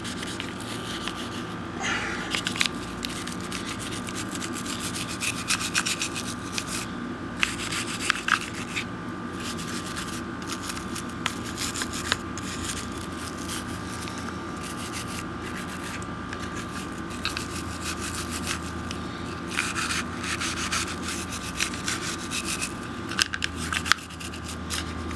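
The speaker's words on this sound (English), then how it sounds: "Anything that has texture is going to accumulate stuff, so make sure that you're brushing that off" A small brush scrubs textured firearm parts during cleaning, a steady close scratchy rubbing that continues for the whole stretch, with faint intermittent clicks and no talk.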